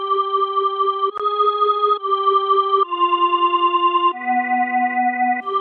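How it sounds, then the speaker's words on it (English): An organ preset from the Nexus synth plays a slow Halloween melody with a softened attack, its sustained, reedy chord tones shifting step by step, clear and steady with no voices. "I've used an organ with the same melody which sounds something like this."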